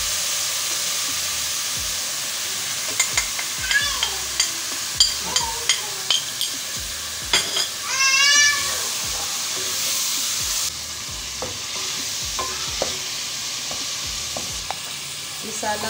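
Green chillies and spices sizzle steadily in a pan for a village-style baingan bharta, with repeated scraping stirs and occasional clinks of the spoon throughout. No one talks.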